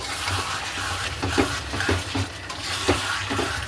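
A spoon stirs chicken curry in a red gravy in a wok, scraping in slow, uneven strokes over a steady low sizzle, close by, with no talking.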